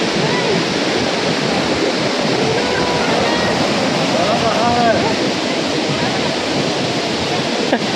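Water of Saveri Waterfall in Goa rushes in a loud, steady roar that fills the scene without pause, with a few faint voices in the background.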